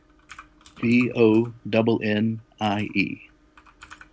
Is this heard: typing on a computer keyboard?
yes